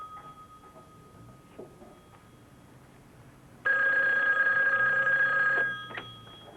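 A telephone bell rings once in a single sustained burst of about two seconds, clear and fairly loud after a quiet room.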